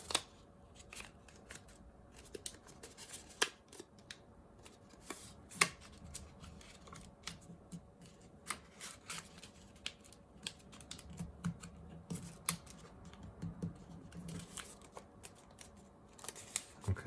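Paper folded by hand for an origami tulip, giving soft crinkles, creases and scattered light taps at close range, quiet and alone with no talking.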